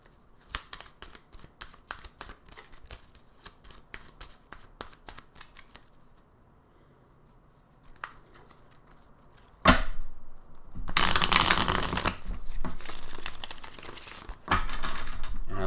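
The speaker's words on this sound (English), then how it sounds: "I like to shuffle a lot for these because I want to make sure that I'm getting a pure reading for you guys" Tarot cards shuffled repeatedly by hand, a quick run of crisp riffling clicks and slaps that pauses, then returns as a louder, denser burst of rustling shuffles close to the mic.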